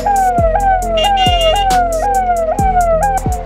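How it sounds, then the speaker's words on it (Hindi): An ambulance siren wails loud and close in heavy Mumbai traffic, its rising electronic sweep repeating every second or so without a break, while engine rumble sits underneath. "there is no way for ambulance"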